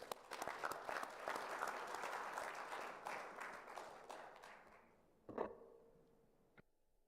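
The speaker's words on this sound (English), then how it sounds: "we can close by giving them a heartfelt appreciation and a round of applause" Delegates at a conference of African postal regulators give a round of applause, sustained and fairly distant clapping that fades after about five seconds, followed by a couple of sharp knocks.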